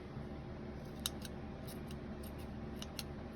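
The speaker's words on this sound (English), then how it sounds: "with my dullest pair of scissors that I own." Two or three quiet metallic snips of a dull pair of scissors clipping strings sound over a low background hum, spaced about a second apart.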